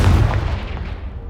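A Confringo fire spell explosion from the video game Hogwarts Legacy, a loud, sharp blast with heavy low-end rumble that decays over just over a second.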